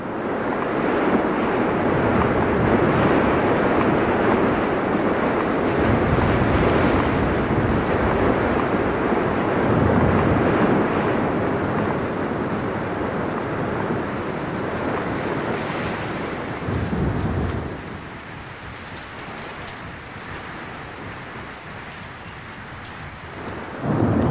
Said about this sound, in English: The rains have come.